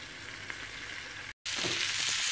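Stuffed okra (bharwa bhindi) frying in an uncovered pan gives a steady, close broadband sizzle that runs throughout, broken by a brief silent gap.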